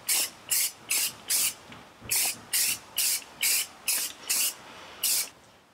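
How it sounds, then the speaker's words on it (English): Primer is sprayed from an aerosol can onto a car's brake light housing in eleven short, even hissing bursts, each about a third of a second long, evenly spaced and close by, with no talking. "Now that we're through priming it, we're going to now be spraying it in gloss black."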